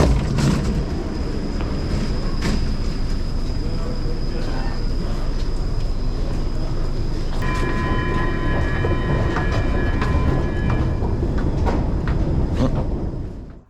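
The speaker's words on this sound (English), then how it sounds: "After a short ride on the metro, we arrive at Stockholm Central Station." Stockholm metro train riding, with a steady loud rumble of wheels on rail and clatter throughout, sharp clicks and squeals over the top, and a whining tonal hum joining midway, continuous until it cuts off at the end.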